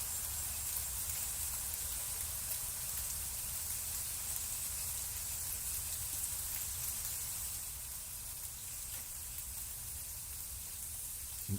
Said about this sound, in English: See, it's raining. It's raining.